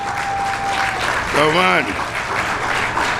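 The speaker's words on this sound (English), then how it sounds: "We should applaud it." An audience at a heritage reception applauds with steady, dense clapping throughout. A voice speaks briefly over the clapping.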